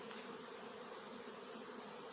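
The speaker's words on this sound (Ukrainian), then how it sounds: "Пасіка загуділа, друзі, пасіка загриміла" Honeybees hum at an apiary on a warming day, a steady, dense, even drone that carries on without a break and with no voices.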